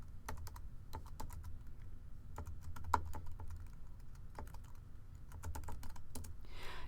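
Steady, close clicking of fingers typing on a computer keyboard to fill in a Google sign-up form, with quick irregular keystrokes and a few louder taps running throughout and no voices.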